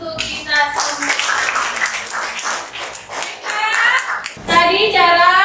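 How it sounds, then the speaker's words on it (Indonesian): Classroom applause from students breaks out in a burst of clapping, mixed with children's voices and cheering, dips briefly, then swells again near the end. "Kasih tepuk tangan untuk kita semua."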